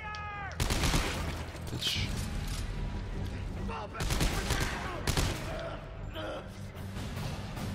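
Dense gunfire in the video game Dead Space 3, with bursts of rapid shots and heavy impacts layered over a game soundtrack, loud and close, while people talk over the action.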